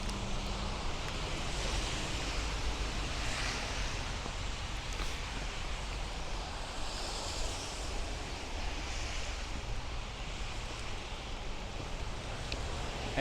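Rain falls steadily on a snowy Brooklyn street in Dyker Heights as a broad, even hiss, with no talking.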